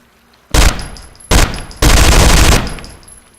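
Gunfire in the Interstellar Marines game: three loud, close bursts, two short and one long sustained volley of rapid shots, separated by brief gaps with a faint hum between them and no talking.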